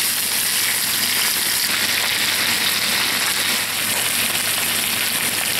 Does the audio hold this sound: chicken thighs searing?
yes